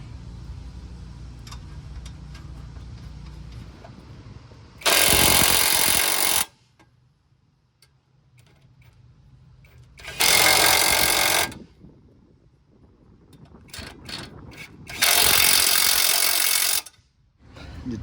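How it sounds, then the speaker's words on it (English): Bolts on a ninth-generation Honda Civic front axle and knuckle are driven in with an impact-style power tool in three loud, harsh bursts of about a second or two each, separated by quiet stretches of faint workshop clatter. "Now I'm gonna put the bolts here."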